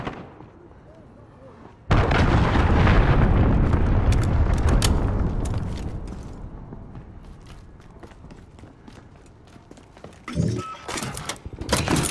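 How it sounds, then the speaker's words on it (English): A cruise missile strike in a Modern Warfare video game: a sudden heavy boom gives way to a long rumbling roar of explosions and gunfire, easing off before sharper blasts and crackles return at the end. "Enemy cruise missile incoming!"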